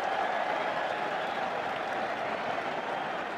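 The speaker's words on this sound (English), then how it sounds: "Cosworth, the crowd willing him then to pass it out" Crowd at a 1983 England versus New Zealand rugby test match applauding and cheering, a steady dense roar of clapping that is loud and continuous throughout.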